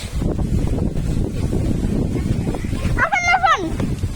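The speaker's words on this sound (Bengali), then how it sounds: "এত বাতাস!" Strong wind buffets the microphone outdoors on a stormy day at a village home, a constant low roaring rumble throughout, with a brief tonal squeal or call rising near the end.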